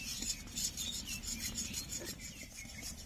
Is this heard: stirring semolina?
yes